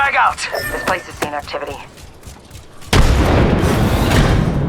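A loud explosion from thermite grenades in Apex Legends booms, followed by a sustained crackling roar, after excited talking and rapid clicks in a game soundscape.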